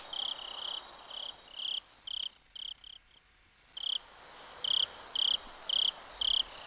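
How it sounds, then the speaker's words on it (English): Cicadas in the Higurashi video game chirp in a regular pulsing rhythm of short, shrill bursts. The bursts stop briefly partway through, then resume. "it's just the cicada sounds here"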